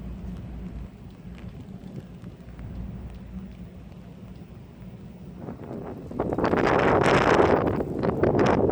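Rain and gusting wind off the back of a boat on the water near Bergen, a steady low patter that swells into louder, hissing wind-driven rain toward the end, with no voices.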